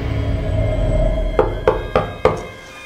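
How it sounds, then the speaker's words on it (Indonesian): Knocking on a bedroom door as a radio drama sound effect: four evenly spaced, firm knocks over a low steady hum. "ada yang mengetuk pintu kamarku."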